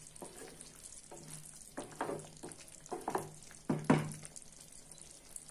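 Soya chunk curry gravy is being stirred in a pan, giving soft, intermittent scraping and sizzling strokes at a moderate level with no talk.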